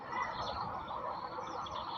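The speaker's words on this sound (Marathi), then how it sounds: "पक्ष्यांचा चिवचिवाट ऐकू येतो" Steady, soft bird chirping fills the air throughout, a continuous twittering chorus from several birds at a distance in an otherwise quiet outdoor setting.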